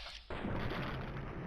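A single close, loud gunshot headshot in Fallout: New Vegas, a sudden broadband blast that rings on and stays dense after a brief quiet moment.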